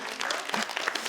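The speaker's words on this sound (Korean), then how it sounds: "뭐 박수 한번" A lecture audience gives a brief burst of clapping, a short flurry of close, overlapping claps.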